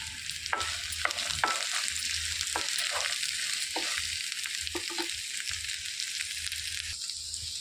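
Cut coconut pieces stirred with tender tamarind leaves in a pan for chutney, producing a steady close sizzle and frying hiss with repeated spoon scrapes and taps against the pan.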